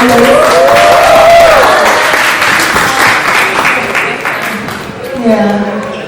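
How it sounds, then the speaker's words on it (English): Applause fills the room for a transwoman pageant winner just appointed Universal Woman Arabia 2025, steady and loud, with cheering voices rising over it and fading slightly toward the end. "let's give a round of applause for her individuality"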